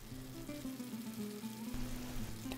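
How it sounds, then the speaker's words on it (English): Butter melts in a pan, giving a soft, steady bubbling sizzle over a low background hum, with a faint tonal whine running through the short stretch. "So the very first thing I do is to melt some butter."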